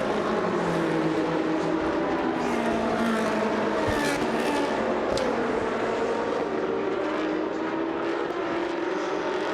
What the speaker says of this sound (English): So the cars are away on their formation lap now.